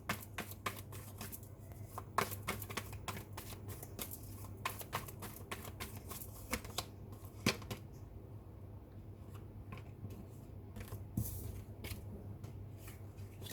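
Tarot cards being shuffled by hand, a steady run of soft riffling and slapping card sounds, close and quiet, with no talking over it.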